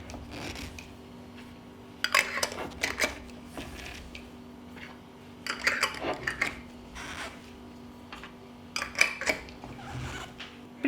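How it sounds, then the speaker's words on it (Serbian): Glass jars of home-canned meat being closed with clean new lids: short bursts of scraping, twisting and light clinking at irregular intervals, moderately close, with no talk. "na kraju ću tegle zatvoriti sa čistim i novim poklopcima"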